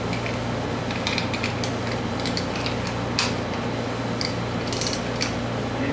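A part being tightened back into place by hand, giving a steady run of mechanical clicking and ratcheting at close range, with no one talking.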